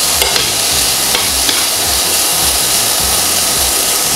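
Frozen ready-made Finnish food fries in a hot pan with a loud, continuous sizzle, joined by occasional scraping and stirring sounds close by.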